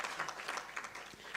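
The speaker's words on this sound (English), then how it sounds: "I would appreciate another round of applause for" Audience applause for a mayor at a research seminar on development goals, a faint, steady wash of many hands clapping for about a second and a half, with no voices over it.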